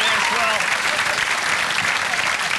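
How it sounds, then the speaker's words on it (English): A television studio audience bursts into a round of applause, dense and loud, holding steady for a couple of seconds with no break. "I think that was probably the phoniest, spontaneous round of applause I've ever heard"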